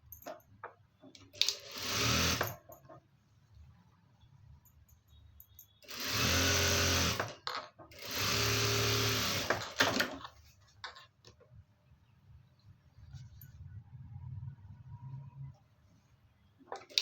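Sewing machine stitching a garment lining in three separate bursts of rapid, close whirring, with quiet handling sounds in the pauses between runs.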